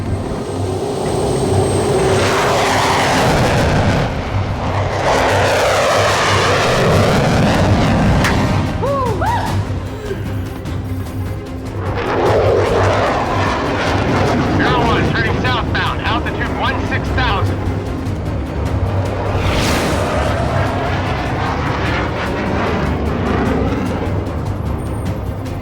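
A loud aircraft engine roars at forward throttle in an action movie scene, a sustained powerful drone with sweeping pitch shifts and surges, heavy rumbling music-like layering underneath throughout.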